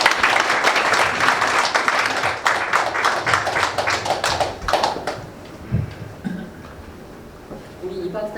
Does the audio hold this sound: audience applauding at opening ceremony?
yes